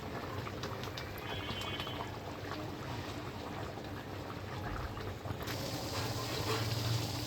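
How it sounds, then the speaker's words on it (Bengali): Fish curry (fish bhuna) in a pot on a home stove, bubbling as it boils: a quiet, steady stream of soft pops and burbling simmer throughout, with no voices. "এই যে মাছটা দিয়ে দিয়েছি, টকবক করে ফুটতেছে।"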